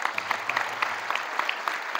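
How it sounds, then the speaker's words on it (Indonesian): Brief applause from students at a motivational seminar in an Islamic boarding school, quick individual claps pattering over a low murmur. "Tepuk tangan untuk MTS Saudara."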